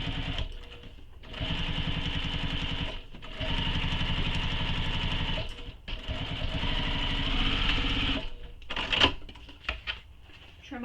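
Sewing machine stitching bag fabric with back stitches, three loud bursts of rapid mechanical whirring separated by short pauses, the last shorter with faint clicks.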